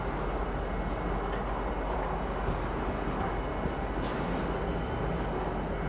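A train rolls past in the Star Citizen video game, a continuous loud rumbling roar with steady broadband noise and no speech, holding even throughout.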